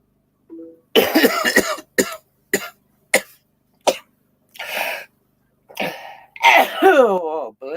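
A string of short, sharp bursts from one nearby person, with separate explosive expulsions of breath and brief silences between them.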